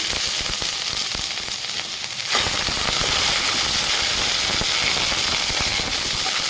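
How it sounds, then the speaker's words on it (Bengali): Chopped onion sizzles in about a spoonful of white (refined) oil in a pan, a steady, loud, close frying hiss that jumps up after a quieter start and continues without any voices. "তো পেঁয়াজটাকে আমি কুচো করে নিয়েছি তো পেঁয়াজটাকে আমি হালকা ভেজে নেব"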